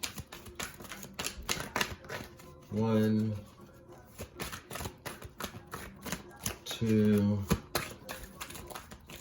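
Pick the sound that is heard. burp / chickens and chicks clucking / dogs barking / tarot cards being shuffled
tarot cards being shuffled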